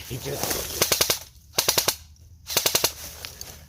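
Automatic gunfire in a post-apocalyptic shooter video game, loud bursts of four to five rapid shots repeated three times with short pauses between, used as suppressing fire.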